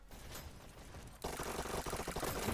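Submachine gun fire in the VR shooter Dash League during an esports match rattles out in a dense, continuous burst after a quieter start. It sounds fairly faint and distant.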